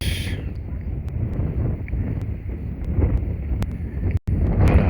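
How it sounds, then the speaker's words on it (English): Strong wind buffets the microphone during a drone flight with a constant low rumble and gusty roar, briefly cutting out near the end. "It's kind of windy today"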